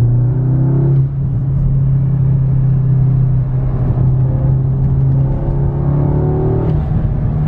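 Car engine droning steadily while cornering, an Audi 8Y fitted with a Verkline rear tubular subframe and arms; a loud, continuous low hum and road rumble with slight pitch shifts, no voices.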